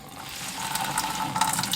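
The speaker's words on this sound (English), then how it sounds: "I just squeeze out all the water." Water wrung from a nut milk bag of blended celery pulp at a kitchen sink, a continuous splashing trickle that swells toward the end, with no talk.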